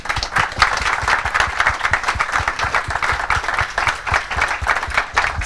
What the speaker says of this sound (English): please, for the moment, give our panel a massive round of applause.